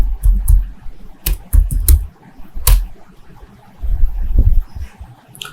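Computer keyboard typing commands into a Linux-style shell, loud close bursts of clacking keystrokes with short pauses between runs, heavy low thumps under the clicks, no talking.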